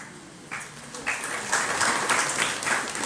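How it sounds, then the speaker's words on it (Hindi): An audience claps during a religious sermon, the applause starting softly and swelling into a dense, sustained crowd of hands in a large hall. "इसमें ताली बजाने की जरूरत नहीं थी वैसे"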